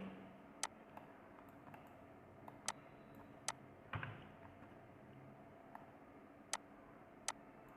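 A few isolated, faint clicks from a computer keyboard as a serial number is typed into an Excel sheet, scattered sparsely over a quiet room background.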